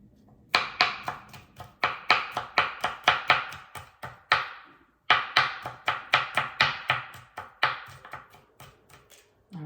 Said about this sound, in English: I do not want to mince the garlic too fine, so just mince it roughly